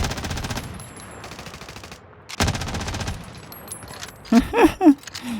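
Rapid automatic gunfire in Call of Duty: Warzone rattles in bursts with short pauses between them, and a voice speaks briefly near the end.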